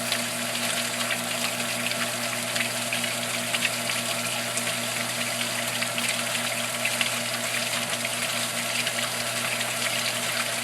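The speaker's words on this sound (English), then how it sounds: "You can hear the difference in the shower." Water rushes steadily through a Cetus sieve in a flow test, a loud, constant gushing wash with a low pump-like hum underneath and no breaks.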